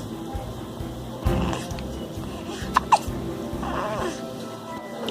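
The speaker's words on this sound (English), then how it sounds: "I don't know how to get rid of hiccups." Baby hiccuping in short, sharp bursts, two close together mid-clip, over steady low background hum and rustling.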